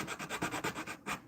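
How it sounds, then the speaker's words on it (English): Hand sanding of a wooden piece in a workshop, a steady series of rhythmic back-and-forth rubbing strokes, close and fairly loud, with no voices. "I'm sanding"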